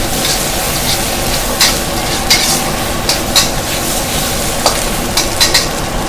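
Rice noodles for pad see ew stir-fried in a hot pan, a continuous loud sizzle broken by repeated scraping strokes of a spatula at an irregular pace.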